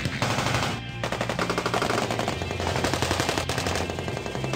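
Army basic training range with automatic weapons such as .50 cal, M240 and M249 machine guns firing together, producing a dense, loud, continuous rattle of overlapping rapid bursts with no break.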